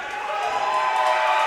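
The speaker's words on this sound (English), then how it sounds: "This crowd here in Birmingham's fired up" A wrestling crowd in Birmingham cheers in a steady, loud, wall-like roar that holds for a brief moment without a break.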